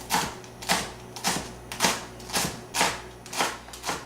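A knife finely chops leeks on a cutting board, with about eight evenly spaced crisp chops at close range and no talking.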